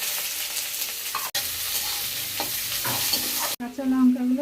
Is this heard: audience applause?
no